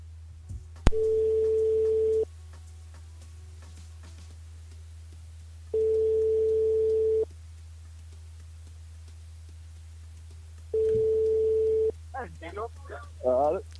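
A phone line rings out while a live radio call-in show dials a listener: three long, even ringback beeps at regular intervals over a low hum, ending with a short garbled burst.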